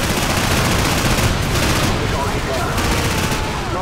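Sustained, dense automatic gunfire in Call of Duty 4: Modern Warfare, loud and continuous rattling volleys with brief lulls, while a voice speaks underneath.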